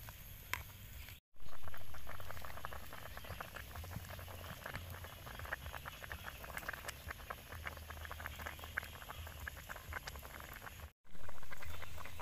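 Bitter melon and pork cooking in a pot, a faint, continuous bubbling and sizzling patter with soft crackles, close by and steady.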